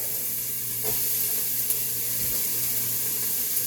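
Tap water runs steadily into a kitchen sink during hand washing, a broad close hiss with slight splashy shifts, alone and without talk.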